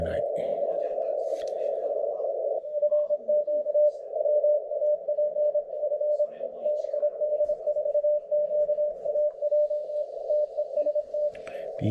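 Fast Morse code CW from a Chinese contest station on the 7 MHz band beeps as a steady keyed tone with rapid on-off rhythm, over faint radio hiss.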